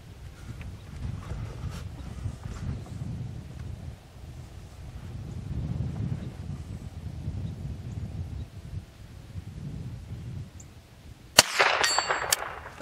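A .22LR bullet strikes a steel target on a short shooting lane, giving one sharp, ringing clang near the end after a long stretch of wind and outdoor rumble.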